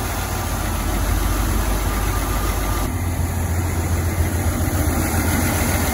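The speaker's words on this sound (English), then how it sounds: "we got the green machine running, idling right now" A 1981 Chevy C20 truck engine idling, steady and loud, with an even low rumble and faint vibration, close by with no talk.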